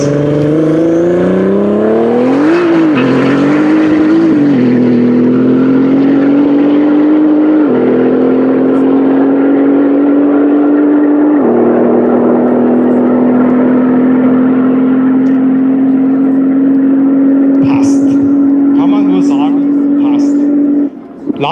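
A 1000 PS Nissan GT-R accelerates hard toward 320 km/h, its engine roaring loud and close in a long sustained pull, pitch climbing steadily with distinct gear-shift drops along the way.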